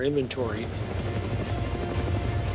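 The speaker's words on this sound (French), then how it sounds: "Les Sea Kings sont des hélicoptères de légende." A Sikorsky Sea King amphibious helicopter, with a steady rumbling rotor and engine drone and a high turbine whine running throughout, heard under someone speaking.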